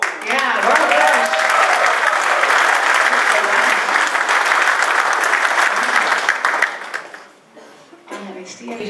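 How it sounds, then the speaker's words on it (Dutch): Warm audience applause at a big band concert, full dense clapping that tapers off near the end as voices emerge. "Ja, warm applaus."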